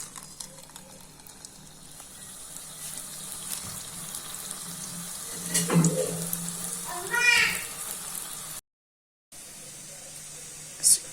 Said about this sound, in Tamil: மீடியமாக காஞ்சிருக்கும் போது இந்த உருண்டைங்களை போடணும்